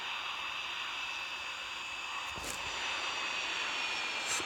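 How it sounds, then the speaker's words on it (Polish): Simulated Airbus A380 jet engines during landing in a flight simulator hum with a steady, even whine and broadband roar, moderately quiet and unchanging with no voices. "Airbus właśnie szykuje się do lądowania."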